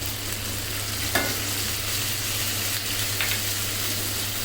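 Ground coriander and red chili powder cooking in a pan for a malai kabab: an even, dense sizzle runs throughout, with a couple of faint stirring scrapes rising briefly above it.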